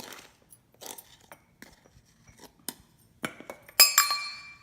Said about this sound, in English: This one needs a very big shake because it has to completely mix.